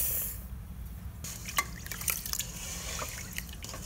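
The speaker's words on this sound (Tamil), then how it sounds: "வரகரிசி இப்போ கழுவிடலாம்." Kodo millet is rinsed with water in a kitchen, with trickling and dripping water and a few sharper splashes and clinks over a low background rumble.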